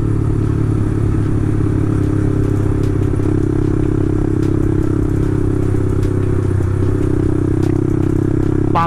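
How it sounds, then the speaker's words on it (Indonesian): A motorcycle engine revs loudly and close by in the morning, a continuous heavy throbbing drone with rising and falling throttle and faint rattling, with no talk over it. "Pagi hari kita geber-geber motor ya"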